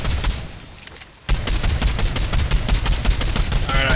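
Fortnite gunfire rattles out as a loud, rapid automatic burst after a brief quiet lead-in, with rhythmic shots repeating steadily close up.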